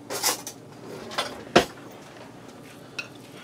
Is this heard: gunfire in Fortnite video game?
no